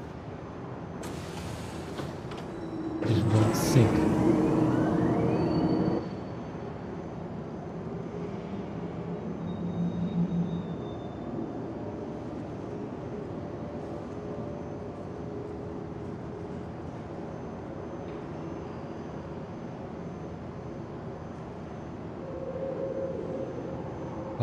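A tram departing a station in the Star Citizen video game, a rising whoosh and rumble that fades into a long low mechanical hum, with a brief voice line in the clip.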